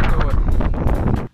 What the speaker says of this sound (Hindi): यार क्या हवा चल रही